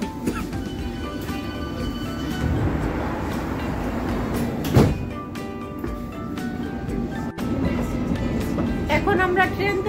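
A London Underground train rumbles steadily with a broad, continuous roar and rattling, heard from inside the carriage, with a brief louder clunk midway.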